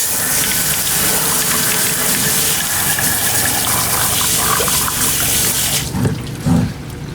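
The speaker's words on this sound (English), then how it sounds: "you can take this over to the sink and just with water and the hose, you can wash it out and down the drain" A hose at a sink rinses emulsion off a screen-printing screen, producing a loud, steady gush of water for about six seconds before it cuts off, followed by a few brief knocks and splashes.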